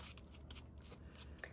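Pink stencil paste being stirred in its container, giving soft, steady scraping and swishing strokes at close range with no voices.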